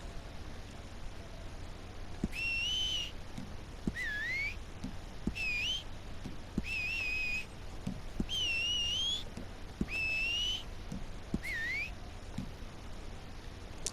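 A clear, bright whistle in Red Dead Redemption II Online repeats in short phrases of rising and falling pitch, about seven bursts separated by pauses, over a faint steady background hum.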